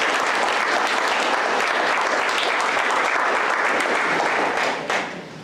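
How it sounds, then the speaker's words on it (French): Sustained audience applause fills a gala closing-ceremony hall, dense and steady clapping from a large crowd that holds loud throughout before thinning slightly at the very end. "Je pense que ces jeunes aussi méritent une très bonne main d'applaudissement."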